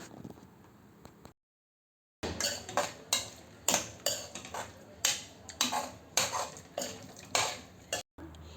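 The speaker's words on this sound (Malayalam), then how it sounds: "മസാലയെല്ലാം ഇതിൽ പിടിക്കത്തക്ക വിധത്തിൽ നല്ലവണ്ണം ഒന്ന് ഇളക്കി യോജിപ്പിച്ച് കൊടുക്കാം" A spoon scrapes and clanks repeatedly against a pan while octopus is stirred into masala, about ten sharp close knocks in an uneven rhythm after a brief quiet gap.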